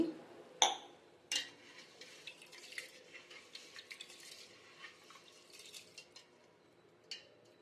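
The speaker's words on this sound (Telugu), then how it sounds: "ఈ మిశ్రమాన్ని బాగా వాటర్తో కడుక్కోవాలి" Rice, moong dal and sago are washed in a bowl of water, giving quiet sloshing, swishing and dripping sounds with a few sharp clinks against the vessel, heard alone at low volume.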